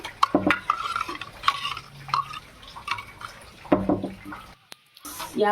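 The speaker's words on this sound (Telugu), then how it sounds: "మొత్తం అంతా వేసుకుని కలుపుకోవాలండి" Majjiga charu, a buttermilk curry, stirred in a pot, with repeated spoon scrapes and clinks against the metal and some splashing liquid, under someone speaking at times.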